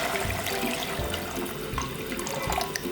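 Water streams into a pot for Korean tteokguk rice cake soup, a steady splashing pour with faint bubbling and gurgling, close and continuous for a few seconds, with no talking.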